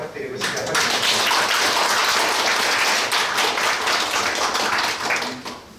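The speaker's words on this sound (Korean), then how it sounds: "제가 박수로 부탁드리고 시작하겠습니다." Applause from a conference audience welcoming a surgeon's lecture: dense, steady clapping that swells in after half a second and holds at full strength for about five seconds before thinning out.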